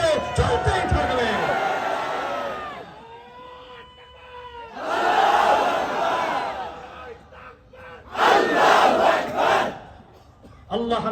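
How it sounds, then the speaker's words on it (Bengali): A rally crowd in Bangladesh chants the Allahu Akbar slogan in three loud, surging bursts of massed voices, with a single voice calling out between them. "এই বাংলার জমিনে আল্লাহু আকবারের স্লোগান চলতেই থাকবে"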